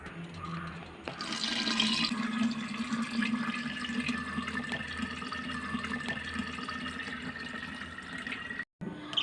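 About one and a half litres of boiled, cooled water is poured into a banana wine mixture. A steady, close pour splashes continuously for several seconds and stops abruptly near the end, with no voices.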